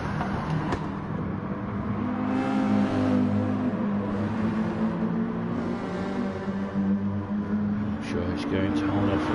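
Mazda 6 and BMW race cars lapping Dragon Trail International Raceway in a close battle, a steady engine drone holding fairly near and loud with commentary talking over it throughout.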